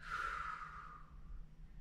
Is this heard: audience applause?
no